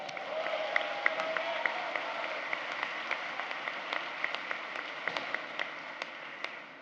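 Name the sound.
audience applause at graduation ceremony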